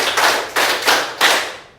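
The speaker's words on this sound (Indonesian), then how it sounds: "Tepuk 1, tepuk 2, tepuk 3, tepuk 4, tepuk 5" A group of students claps hands together in a counted rhythm, four loud, close bursts of clapping spaced evenly, each decaying before the next.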